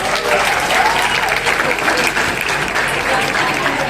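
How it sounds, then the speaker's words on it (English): A lecture audience claps loudly and continuously for a volunteer called on stage, dense close applause filling the whole stretch. "इसके थोड़ी ताली बजाओ प्लीज"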